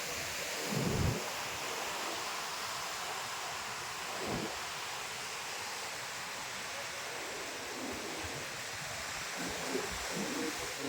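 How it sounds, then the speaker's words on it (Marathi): Sea waves wash against the Konkan coast near Ambolgad village, a faint, steady surf roar with occasional swells and some wind, while a voice talks at times. "बघा समुद्र आहे"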